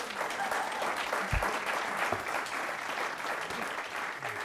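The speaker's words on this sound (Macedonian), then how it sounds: "Аплауз за Даниел, аплауз." A studio audience on a Macedonian talk show claps for a guest named Daniel, dense steady applause with a few louder thumps close by.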